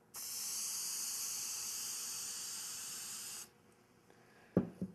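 Aerosol lacquer can with an adjustable nozzle sprays in one steady, loud hiss lasting about three seconds, then cuts off sharply, followed by a couple of brief knocks.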